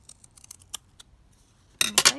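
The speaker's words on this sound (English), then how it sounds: "So just going to cut those ends with the hair thinning," Several light, quick snips of hair thinning scissors cutting paper tick softly at first, then a louder cluster of crisp cutting sounds close up near the end.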